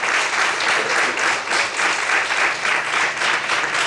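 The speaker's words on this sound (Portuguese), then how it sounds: "Vamos aplaudir o Senhor essa noite." A church congregation at an evening service applauds loudly and joyfully, steady dense clapping with a slight pulsing rhythm from start to finish and no voices on top.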